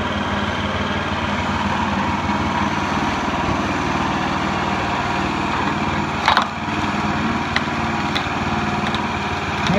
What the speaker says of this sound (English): a hydraulic pump, lever and a cylinder. Split it like it ain't nothing.